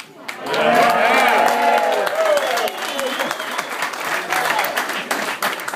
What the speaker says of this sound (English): I can't have you clapping all the time